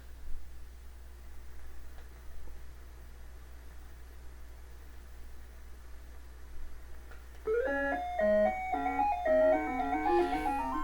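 The Ms. Pac-Man title screen intro music on the Atari 7800 plays as bright, beeping synthesized chiptune notes that start suddenly after several seconds of low hum and hiss, then bounce along loudly in a quick melody.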